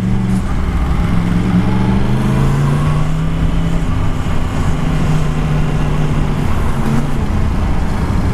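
A Yamaha MT10 motorcycle fitted with an Akrapovic exhaust runs with a loud, steady low engine drone and shifting tonal hum, close and continuous with no talk.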